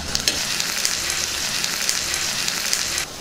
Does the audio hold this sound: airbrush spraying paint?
no